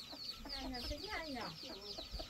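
Chickens on a home farm cluck repeatedly and fairly close, a busy run of warbling calls over a quiet background, with people talking nearby.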